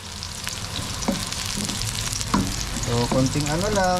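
Onion frying in a pan for pork and chicken adobo, a loud continuous sizzle stirred now and then, while a person talks over it.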